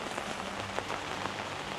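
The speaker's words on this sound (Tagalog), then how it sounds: "sobrang ulan po dito tsaka may tubig" Heavy monsoon rain pours down on a flooded backyard kitchen garden, a dense, unbroken hiss of close drops hitting the surface with a few louder splats.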